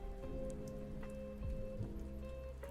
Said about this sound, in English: you can set up like ambient noise. So we have rain, smooth rain.